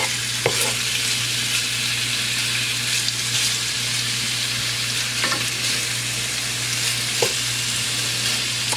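Chicken frying in a pan for a pot pie, a steady loud sizzle with occasional scraping stirs, close by and with no talk.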